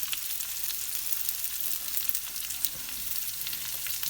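Sweet red pepper and onion frying in a pan for a salmon breakfast, a dense steady close sizzle with small crackles throughout and no voices.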